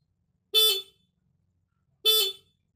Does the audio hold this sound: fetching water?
no